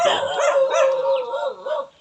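Dogs howl and bark close by in a drawn-out, wavering chorus that trails off at the end, with no talking.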